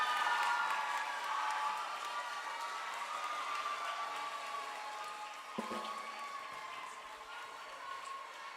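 A graduation crowd gives an honoree sustained applause: a dense, distant wash of clapping that stays even and eases slightly toward the end.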